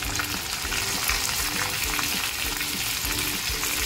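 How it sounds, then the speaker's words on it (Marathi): Continuous crackling and spattering of mustard seeds, cumin and garlic frying in hot oil, moderately loud and close, with faint stirring noises and no voices. "फोडणी छान तडकलेली आहे"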